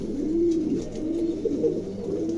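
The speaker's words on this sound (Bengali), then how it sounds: "এত বড় কবুতর পাওয়াই যায় না।" King pigeons give soft, rolling coos close by, repeating in a steady low murmur without pause.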